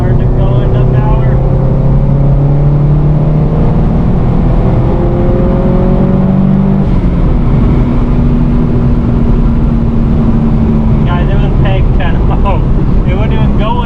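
Turbocharged Subaru STI with a big turbo accelerating under power, a loud steady engine drone with rising tones and heavy wind buffeting throughout, rather sluggish without boost.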